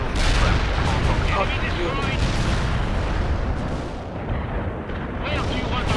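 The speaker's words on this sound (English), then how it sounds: "Artillery strike completed." Artillery strike in the video game World in Conflict, a dense, continuous roar of rumbling blasts and crackling impacts throughout, with a brief spoken remark over the barrage.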